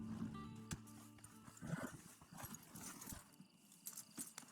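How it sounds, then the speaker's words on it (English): A horse in the video game Red Dead Online, with hoof clip-clops and snorting mixed among game ambience, music and scattered clatter, moderately loud throughout. "There's the cab. It's your horse."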